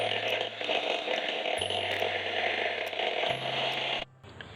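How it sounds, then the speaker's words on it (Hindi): A mixer beats butter and sugar for zeera biscuit dough with a continuous mechanical whir and rattle, its pitch stepping between speeds, before cutting off abruptly near the end. "फिर इसके बाद इसको बीट कर लेंगे ताकि ये बिल्कुल लाइट"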